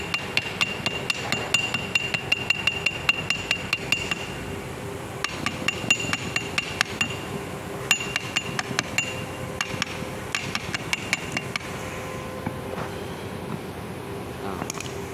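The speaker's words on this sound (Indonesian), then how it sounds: "jangan menggunakan logam ketika memukulnya, atau bisa menggunakan palu karet" A mallet repeatedly strikes the pulley of a car AC compressor to knock it loose, producing a steady run of sharp metallic taps, loud and close, over a faint workshop hum.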